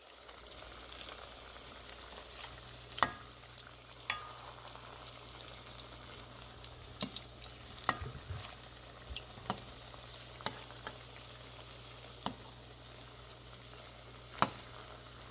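Paneer 65 pieces deep frying in hot oil, a steady sizzle and bubbling throughout with scattered sharp pops and crackles, close and fairly quiet, with occasional clinks from stirring and turning.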